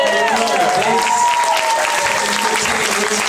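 Audience applause and cheering for the vocalist and bassist after a live performance at an event, dense clapping from a large crowd that holds steady throughout, with scattered whoops rising above it.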